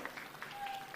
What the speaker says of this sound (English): A better hand of applause.